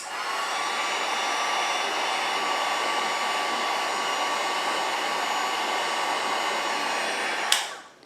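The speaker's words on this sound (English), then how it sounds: "Let's blow some more hot air in here." A hair dryer blows hot air steadily onto jars of dipping powder, a loud, constant close whir that cuts off abruptly near the end.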